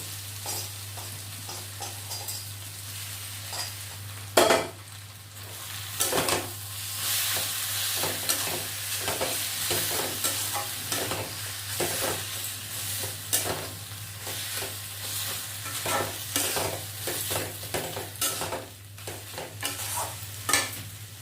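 Boiled lote fish fries and gets stirred in a pan for a Bengali fish chop, a steady sizzle with repeated scraping strokes, one loud clatter near the start, under a constant low hum.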